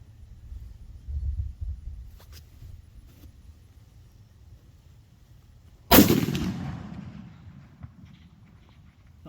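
A single sharp rifle shot fired at a long-range target, loud and close with a long rolling echo trailing off across open ground, after a faint low rumble and no talking.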